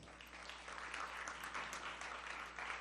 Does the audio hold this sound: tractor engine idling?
no